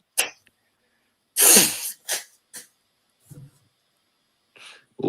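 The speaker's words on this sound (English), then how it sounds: "was blowing my nose, man" A person sharply blows their nose in one loud, noisy burst, followed by a few shorter snorts and sniffs, close up with no talking.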